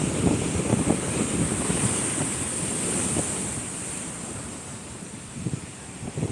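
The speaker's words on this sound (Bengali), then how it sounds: "কাছাকাছি যেতে ভয় লাগছে কখন কোন ঢেউটা কত দূর চলে আসবে" Waves crash and surge onto Shankarpur beach in a continuous roar, with gusty wind buffeting the microphone throughout.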